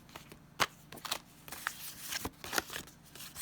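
Vintage playing cards being handled up close: soft crisp rustles and flicking snaps in irregular bursts, with a few sharper clicks, quiet and with no voices.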